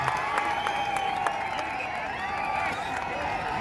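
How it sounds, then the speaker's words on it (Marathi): Spectators applauding at a Kolhapur versus Ahilya Nagar match, a steady wash of crowd clapping and cheering with a faint tonal sound running through it. "जोरदार टाळ्या झाल्या पाहिजे मित्रांनो, अहिल्यानगर आणि कोल्हापूर या दोन संघांसाठी."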